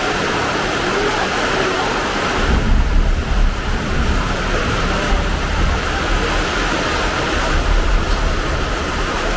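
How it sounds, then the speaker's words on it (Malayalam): Heavy rain pours steadily and loudly throughout, a dense broadband hiss with a deeper rush from about the third second, with no speech. "നല്ല മഴയാണ്"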